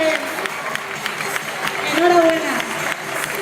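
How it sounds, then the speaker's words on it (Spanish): A crowd claps for a numbered prize winner at a casting event, steady broadband applause with a voice speaking over it. "Fortísimo aplauso para él."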